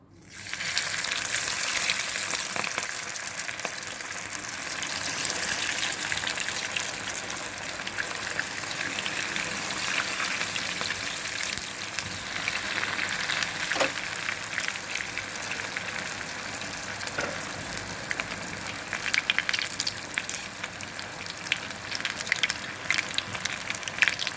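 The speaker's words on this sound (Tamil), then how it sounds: "இப்போ நம்ம எண்ணெயில் போட்டு எடுப்போம்னப்பா" A chicken roll fries in oil over a low flame, giving a steady, dense crackling sizzle that stays even and fairly quiet throughout, with no talking.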